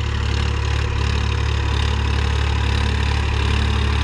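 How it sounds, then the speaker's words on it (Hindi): Swaraj 963 FE tractor, a 2019 model, running in a field with a steady, loud, low engine drone and constant rumble throughout, no talk over it. "ये 963 FE ट्रैक्टर है"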